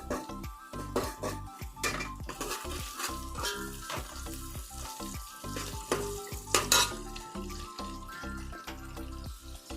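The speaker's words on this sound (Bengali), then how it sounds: "ভালো করে মশলাটা কিছুক্ষণ কষিয়ে নেব।" A spice paste of chilli powder, cumin-coriander powder and turmeric fries and sizzles in a pan while being stirred, with a steady crackle and repeated scraping strokes close by and no talking.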